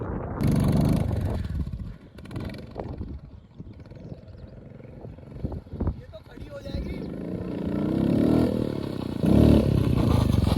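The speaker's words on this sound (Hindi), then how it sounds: "आवाज कुछ अजीब सी आई है, आवाज थोड़ा सा चेंज आया है और बाइक में दम आई है" A Royal Enfield Hunter 350 motorcycle engine fitted with a performance pack rumbles and revs up loudly, with a deep throaty roar building toward the end as someone talks over it.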